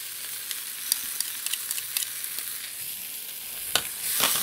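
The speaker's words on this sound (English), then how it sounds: "we just want to fry those until they start to soften a little bit" Diced shallots and crushed garlic frying in a pan, a soft steady sizzle with scattered crackles and pops, stirred now and then, close and without talk.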